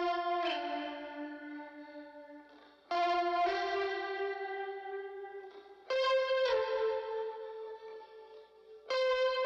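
Heavily processed electric guitar through an old tape effect, sustained chords struck about every three seconds with a wobbling pitch vibrato, echoing and reverberant, fairly quiet and with no talking.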